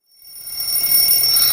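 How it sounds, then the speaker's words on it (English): An alarm clock bell begins ringing after a short silence, a loud continuous metallic trill that swells in quickly and holds steady. "Morning, 5:30, the alarm bell rings."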